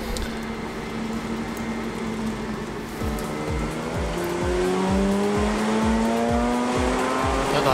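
A rear-wheel-drive car slides sideways on a dirt race track during a track day, its engine note rising steadily while repeated tire squeals and skids pulse close by, loud and continuous.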